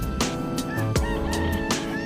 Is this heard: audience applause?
no